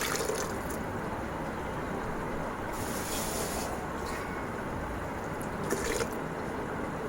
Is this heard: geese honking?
no